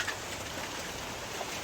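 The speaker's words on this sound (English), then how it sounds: "it's raining, It's pouring." Rain pours down on a rainy day, a faint, even hiss of falling drops on surfaces with no breaks, heard alone without talk.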